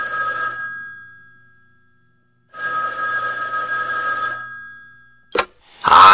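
A telephone bell rings in two long bursts separated by a pause, loud and close in a studio setting, followed by a brief voice at the end.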